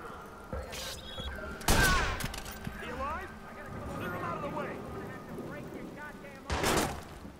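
Gunfire in the video game Watch Dogs, with a few loud, sharp shot bursts spaced out over busy game sound while a player talks throughout.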